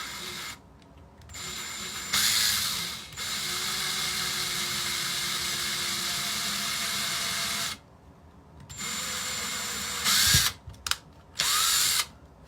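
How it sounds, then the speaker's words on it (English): A power drill boring a hole into a wooden bobbin whines steadily in several bursts, stopping and restarting with short pauses and a brief clatter between runs, loud and close with no speech. "So I need to drill a hole and see if it's going to work."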